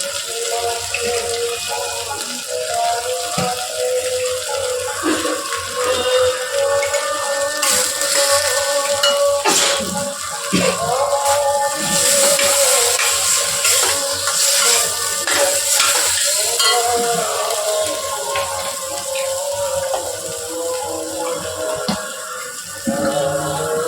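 Water rinsed from a spice bowl splashes into a hot cooking pan for a vegetarian dish, a loud continuous sizzling wash of hissing and bubbling with stirring scrapes throughout.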